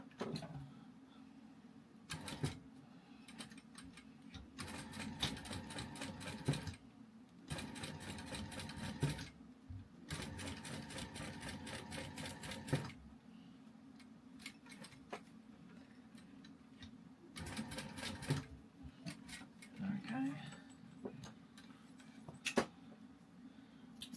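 A sewing machine stitches a wallet, its needle chattering in several bursts of a few seconds each, separated by short pauses as it runs forward and backstitches, close and clear.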